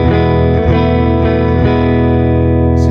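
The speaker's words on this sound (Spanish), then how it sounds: "Entonces le acabo de invertir la fase y sonaría ahora el amplificador así." An electric guitar amplifier is miked with its phase inverted and sounds dull and muffled. Loud distorted chords ring steadily, dense and lacking brightness, with no voices.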